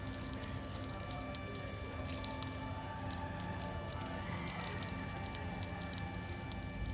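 Water poured over garden plants, a continuous splashing and dripping patter with small squishy spatters throughout, steady and close, with no voices.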